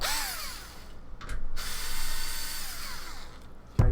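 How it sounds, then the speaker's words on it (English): A power drill whirs in short bursts during a gaming PC build, whining up and down with brief pauses and a sharp clunk at the end, fairly quiet and close. "don't ask why I have a drill out."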